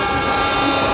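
Toy train on rails rumbling along in a steady, dense, loud roar, a short continuous burst with no talking.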